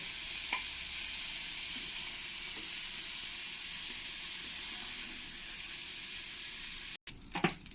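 Prawns frying in oil in a pan: a continuous bright sizzle, fairly close and even, with a couple of faint taps and a short stir near the end.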